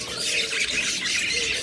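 A flock of budgerigar birds kept for sale squawks and chatters nonstop, a dense, bright layer of overlapping calls that stays steady for the whole moment.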